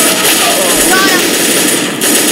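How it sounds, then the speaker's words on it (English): Automatic gunfire in the Roblox video game, including an AK-47, rattling over a constant dense game noise bed with overlapping effects. "I'm just shooting everywhere, hoping that someone's there."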